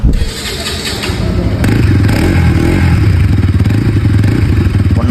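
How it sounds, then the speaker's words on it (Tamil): A Bajaj NS 200, a 200cc motorcycle, idles loudly up close with a throaty, pulsing exhaust note that rises as the engine is revved, accompanied by a mechanical clatter and no voices. "இப்போ வண்டியோட எக்ஸாஸ்ட் நோட்டை கேட்டு பாருங்க."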